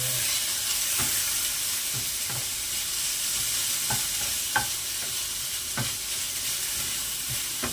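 Tomatoes frying in a pan for cauliflower pulao, a steady sizzling hiss throughout with intermittent light taps and scrapes of a stirring spoon.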